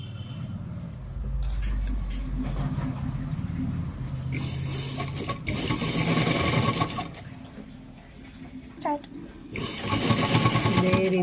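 A sewing machine stitches piping onto a blouse in several short bursts of rapid whirring with pauses between them. Someone speaks over and between the runs.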